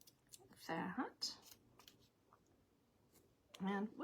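Scissors snip paper or ribbon for a handmade stamped card, a few close, crisp cuts and clicks in quick bursts separated by quiet moments, with faint handling noise and no talking.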